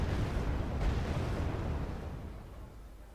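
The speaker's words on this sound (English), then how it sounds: "Now the guy tries a bit of artillery fire" Distant artillery barrage in the war strategy game Wargame Red Dragon, a dense rumbling roar of overlapping blasts that swells early and then slowly fades, with no voices over it.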